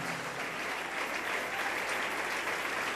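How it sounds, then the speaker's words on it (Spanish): Congregation applause at a Sunday morning church service, a steady dense wash of many hands clapping at even loudness throughout, with no voices over it. "Dele un aplauso al Señor en esta preciosa mañana."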